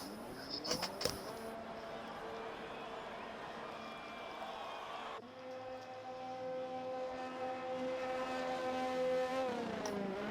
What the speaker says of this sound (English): I can hear cars firing up.